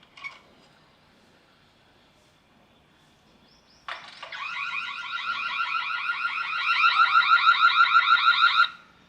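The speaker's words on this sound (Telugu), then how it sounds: "విన్నారు కదా అలారం సౌండ్. ఇది సెక్యూరిటీ సిస్టమ్ మీ ఇంటికి." A home security system alarm starts after a few quiet seconds with a sudden loud electronic wail, then settles into a rapid, pulsing warble that grows louder and stays steady until it cuts off.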